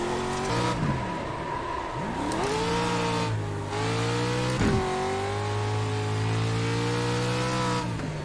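A loud racing truck engine in a video game played on a motion simulator drones and revs continuously, pitch sweeping up and down through gear shifts, with a brief thump partway through and no voices.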